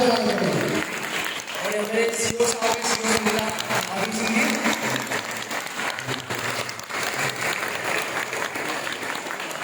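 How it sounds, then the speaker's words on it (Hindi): Audience at a devotional satsang gathering applauding in welcome, a dense, steady wash of clapping that carries through the whole stretch, with voices and crowd murmur mixed underneath. "ताली बजा के सभी लोग अभिवादन करेंगे, स्वागत करेंगे"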